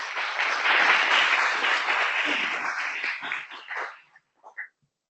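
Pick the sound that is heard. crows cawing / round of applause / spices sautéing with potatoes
round of applause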